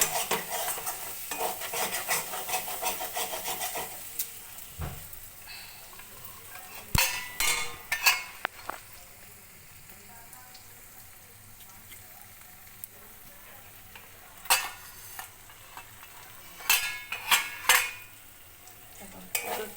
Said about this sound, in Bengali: এবার একটুখানি ভালো করে নাড়িয়ে নিচ্ছি।